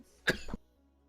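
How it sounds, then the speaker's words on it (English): Two quick, harsh coughs close to the microphone, back to back, then quiet. "Sorry, I had a coughing fit there."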